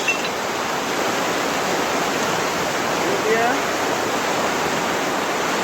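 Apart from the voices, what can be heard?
flooding river water rushing near a bridge in Jamaica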